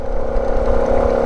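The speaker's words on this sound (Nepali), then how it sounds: "त्यहाँ यस्तो रन्किन्छ स्कुटर बाइकहरू" A Vespa scooter engine strains at a sustained high whine as it climbs uphill, loud, close and continuous for a moment.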